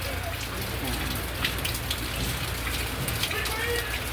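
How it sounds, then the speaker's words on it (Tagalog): Steady rain falls outdoors, a dense, continuous hiss of drops pattering on surfaces, loud and close throughout. "Kaya ito, kahit umuulan,"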